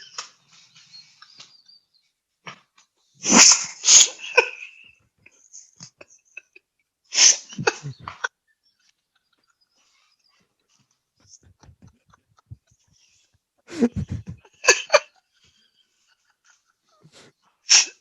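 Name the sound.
dog sneezing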